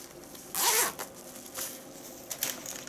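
Plastic bag crinkling as it is pulled off the packaging of an anime figure, one loud rustling burst followed by softer scattered crackles, close up with no talk.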